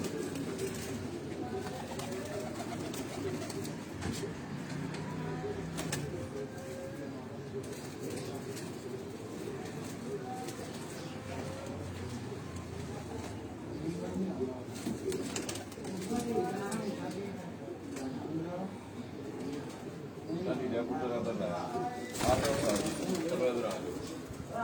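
Cheena breed pigeons coo softly in a loft, low murmuring calls repeating throughout beneath people talking nearby.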